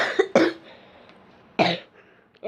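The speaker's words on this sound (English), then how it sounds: "sorry for the cough" Two sharp coughs a second apart from one person, close and fairly loud, with a quiet pause between them and a short breathy vocal sound at the end.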